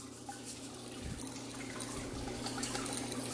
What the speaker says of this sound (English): Pour some more in here.